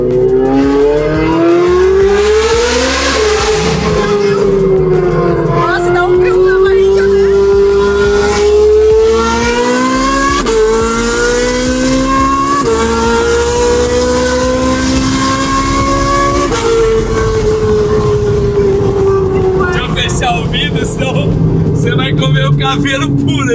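A Ferrari accelerates hard through several gears, its loud, close engine note climbing in pitch and dropping at each shift, with voices talking over it throughout.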